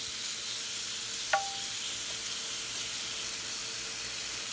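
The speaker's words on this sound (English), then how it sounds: "All right, let me grill this up." Shrimp grilling in a pan for a seafood loaded baked potato, a steady broad sizzle and hiss throughout with a brief clink partway, close and even.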